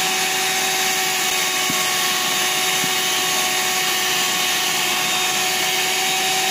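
An electric mixer whirs steadily and close as it beats yellow sweet potato cake batter, a constant motor whine with a faint tonal hum and no voices.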